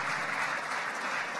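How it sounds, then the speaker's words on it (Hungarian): Steady audience applause at a Hungarian nature photography award ceremony, a sustained even clapping from a crowded hall with no voices over it. "Még egyszer a taps Harberg Orsolyának szól"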